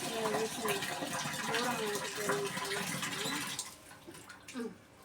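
Water from a tap runs into a bowl in a home kitchen, a steady gushing fill that thins out and fades toward the end, with someone talking over it.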